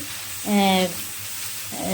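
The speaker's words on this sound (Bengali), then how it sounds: "এবার সব একসঙ্গে ভালো করে নাড়াচাড়া করবো" Continuous frying sizzle with light stirring of chicken, capsicum and onion in a pan, interrupted twice by a short tonal hum.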